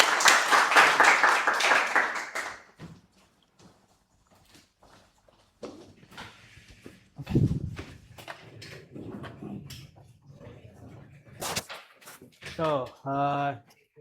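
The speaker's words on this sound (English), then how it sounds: "Okay, give applause." Applause from an audience at an international short course session in a university library fills the opening two seconds, fairly loud and dense, then fades as a lone speaker talks over a quiet room.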